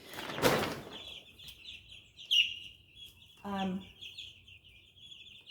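About 75 baby chicks peep steadily in a brooder, a thin continuous chirping close by, broken by a short broadband thump and a brief voice-like sound.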